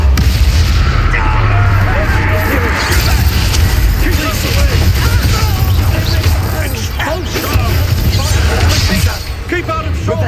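A Confringo blasting spell in Hogwarts Legacy erupts into a sustained rumbling explosion with booming, crashing impacts layered under ongoing game effects and background voices, loud and dense throughout.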